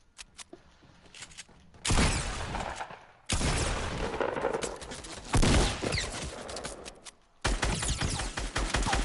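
Enemy gunfire in Fortnite aimed at the player: a few faint taps, then loud sustained volleys of rapid shots separated by brief pauses, close and dense, with no voices.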